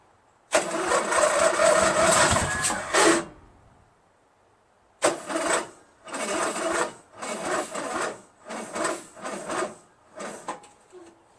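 A Craftsman LT1000 lawn tractor's Briggs engine cranks over and over in several bursts on a weak battery, whirring and rasping loudly without catching, with short pauses between attempts.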